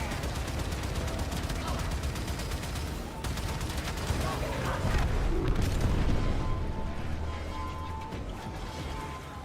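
Ram sleds launching in the Warframe video game, a dense roar of booming blasts, rapid gunfire and crashing impacts that swells toward the middle under a game voice.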